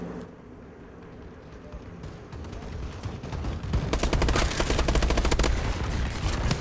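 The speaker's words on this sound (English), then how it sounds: "Friendly bombing run clearing the way." Rapid gunfire and explosive bursts from a friendly bombing run in an online multiplayer war video game, building from scattered shots into a dense, loud barrage that continues to the end.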